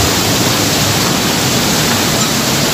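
Ukab Falls sends down strong, heavy water as a loud, dense, unbroken rush. The sound stays close and even throughout, and no talk is heard.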